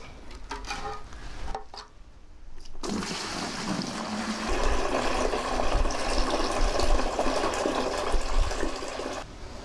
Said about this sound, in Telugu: ముందుగా ఈ 5 లీటర్ల నీటిని బకెట్లో పోసుకోవాలి